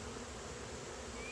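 Honey bees drone in a dense, continuous buzz at an opened beehive, loud and close, with no voices.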